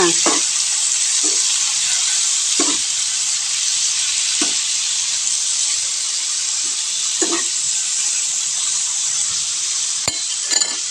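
Tomatoes and onions drop into a hot pan and set off a loud, steady sizzle that fills the whole stretch, with occasional brief stirring or scraping knocks on top and no talking.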